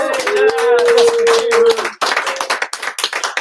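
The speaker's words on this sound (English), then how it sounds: "Big round of applause for Jess." A crowd claps, the applause rising under a sustained sung or called voice, then continuing as scattered, uneven clapping after the voice stops.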